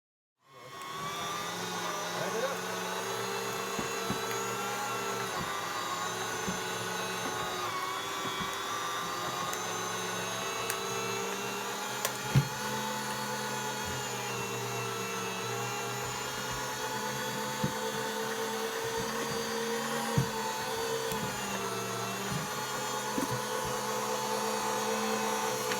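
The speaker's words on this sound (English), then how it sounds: "Ruth, my lovely assistant, will put it all through the grinder" Electric meat grinder grinding fat for rendering lard, a steady motor whine that starts abruptly and holds constant, with occasional small clicks and knocks from the pieces being fed.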